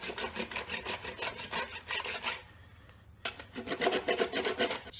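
A Surform rasp stripping paint from a guitar neck makes quick back-and-forth scraping strokes, loud and close. They run in one burst, pause for about a second, then start again in a second burst with no talk.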